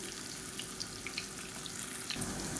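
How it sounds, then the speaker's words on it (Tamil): Raw banana slices fry in hot oil in a pan with a constant, dense hiss, and the sizzle grows slightly brighter near the end. "எண்ணெய் நல்லா சூடாயிடுச்சு ஒவ்வொரு வாழைக்காயாக சேர்த்துக்கலாம்"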